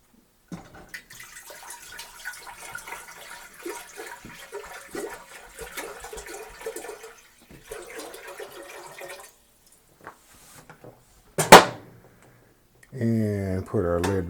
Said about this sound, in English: we want to go ahead and add in the remainder of our water